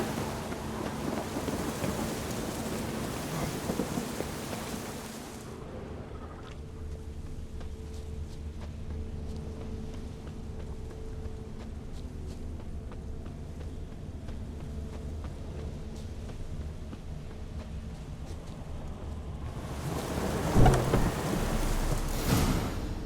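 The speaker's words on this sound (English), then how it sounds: "A storm, damn it." Thunderstorm with rain in The Witcher 3 video game: steady rainfall hisses throughout, with a low rumble of thunder at the start and another louder, closer roll near the end.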